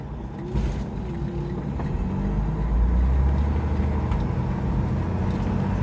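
Steady engine drone of a truck with over one million miles on it, heard from inside while driving, a low continuous rumble that swells slightly and holds.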